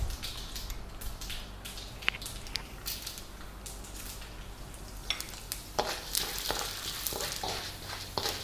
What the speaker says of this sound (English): The oil is hot. Let's add the mustard, the chana dal and the urad dal.